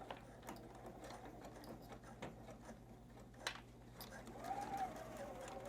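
A sewing machine stitches fabric for a tree ornament gift card holder, a faint, quiet mechanical whir with a rapid ticking needle rhythm and soft low hum throughout.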